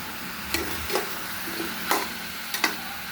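Chicken and chicken feet dry-roasted with pounded curry paste in a pan, heard as a few separate scraping stirs and soft sizzles over roughly three seconds, fairly quiet and with no voices.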